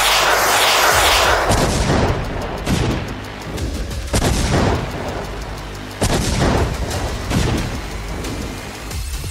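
Artillery and gunfire during a Russian military exercise: a series of loud, booming blasts and sharp reports spaced a second or two apart, each followed by a rolling rumble, with no speech.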